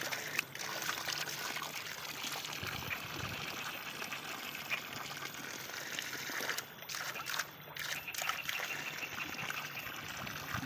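Continuous soft trickling and splashing of running water, steady and fairly close, with a few brief dips in the flow.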